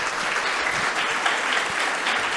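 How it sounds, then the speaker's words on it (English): An audience claps loudly and steadily after a talk, a dense, even wash of applause from a full room. "I want you to keep clapping for each other"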